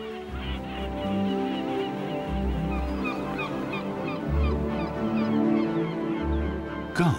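A flock of gulls calls in the wild in Spain, with many overlapping squawks and cries over a low, steady background rumble.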